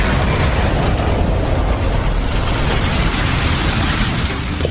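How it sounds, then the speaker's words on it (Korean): A distant explosion in an audiobook rolls out as a steady, dense rumble of broadband noise lasting several seconds, with no voices over it. "폭발음 소리가 아련하게 울려 퍼졌다"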